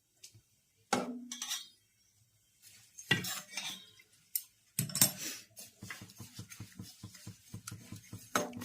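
A spoon scrapes and clinks in a pan of roasting fenugreek methi pickle mix, scattered metallic strikes at first, then a quick run of rhythmic stirring knocks, close and quiet with silent gaps.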